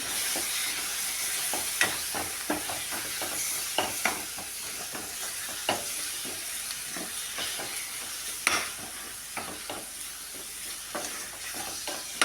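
Chopped tomato sautéing in oil in a pan for a fish curry, a steady soft sizzle with frequent spoon scrapes and stirring clicks throughout, close and alone.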